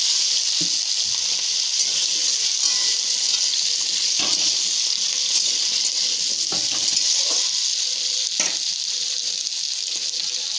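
Boiled potatoes fry in a pan with salt and turmeric, a steady close sizzle running throughout with a few faint stirring knocks.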